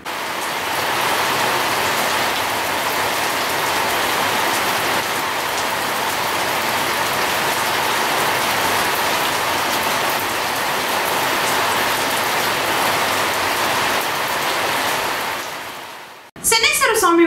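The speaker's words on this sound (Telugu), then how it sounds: "ఆదివారం సాయంత్రం అలాగే నేటి ఉదయం కురిసిన వర్షంతో జనం ఉపశమనం పొందారు." Steady, loud rain pours down without pause for most of the clip, a dense hiss of drops on surfaces close by, cutting off abruptly near the end.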